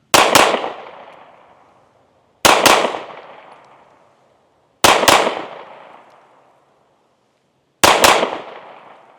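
Four pairs of double-tap shots from a Smith & Wesson Shield Plus 9mm pistol, each pair two loud sharp cracks fired almost together, spaced a few seconds apart with ringing decay between and no talk.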